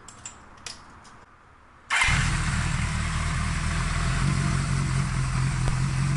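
A Honda CB550 motorcycle starts: a few quiet clicks and a short lull, then the engine catches abruptly and settles into a loud, steady, even idle close by.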